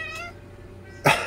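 A pet cat gives a short meow at the start, then a louder, sharper cry near the end, close to the microphone in a quiet indoor room.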